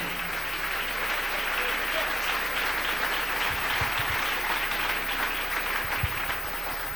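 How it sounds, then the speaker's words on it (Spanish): A church congregation applauds at a Spanish-language sermon, sustained steady clapping filling the room with a few low thumps beneath it. "Dele ese aplauso al Rey."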